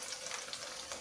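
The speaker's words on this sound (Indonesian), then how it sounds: "Nah, kita aduk dulu." Blended spice paste being stirred in a hot pan for fish gulai, giving a faint, steady sizzle with soft scraping underneath.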